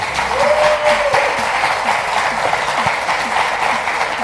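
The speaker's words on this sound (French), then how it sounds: "je vous demande de vous applaudir très fort" A live audience at a café show applauds loudly and steadily throughout, with scattered cheers and a voice briefly rising over the dense clapping.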